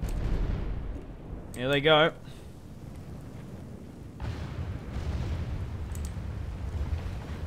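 Cannons and mortars fire in a Total War: Warhammer battle against Beastmen, with dull booms and a rumbling barrage rolling under a voice talking, one sharper burst standing out near the start.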